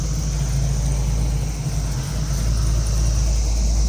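A 1968 Chevrolet Camaro's blueprinted 383 V8 with an aggressive cam idles nearby, a steady low rumble with a slight lope and a brief dip midway, no voices.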